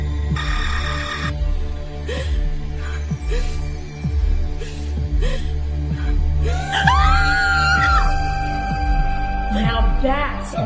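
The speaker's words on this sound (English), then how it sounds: "Now that's a real horror scream." A shrill, sustained scream from a horror film in the Saw series rises out of tense dialogue and low thuds, holding loud over a droning background for several seconds near the end.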